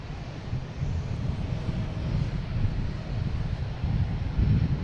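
A JetBlue Airbus A220 airliner arrives at Boston Logan, its steady broadband engine roar rumbling low and constant for the whole stretch, mixed with wind buffeting on the microphone, with no voices.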